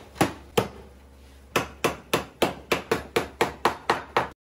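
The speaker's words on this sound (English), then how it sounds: "Then I cut the mortise with a chisel." Mallet blows drive a chisel into wood to cut a mortise for a hand-built bench, two sharp strikes, a pause, then a steady run of about a dozen evenly spaced knocks, close and crisp.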